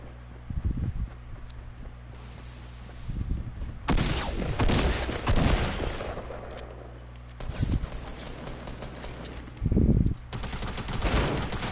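Bursts of video game gunfire crackle in clusters, with a loud volley near the middle and another sharp burst late, over a steady low game hum and no clear talk.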